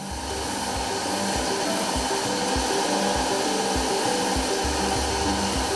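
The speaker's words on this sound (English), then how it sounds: "use these sanding machines to smoothen the sculptures" Sanding machines smoothing carved sculptures in a noisy recycling workshop, a steady loud whirring drone with a constant broadband hiss and faint low rhythmic pulsing throughout.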